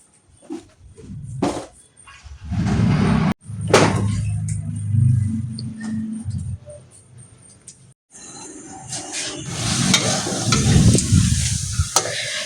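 Large sweet pitha cakes made from flour, a little sugar and one egg fry in a shallow pan of oil running low, giving a steady sizzle with scraping and stirring bursts, loud and close, broken by short pauses.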